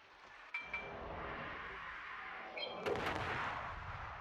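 Warship guns firing in the World of Warships video game, a muffled boom near the start, then heavier rumbling salvos and crackling blasts over a constant low engine and sea drone.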